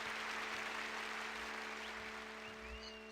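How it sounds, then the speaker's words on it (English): Faint, continuous video-game applause with a hollow, synthetic quality, under a steady electronic hum. "Come down the stairs and we get applause."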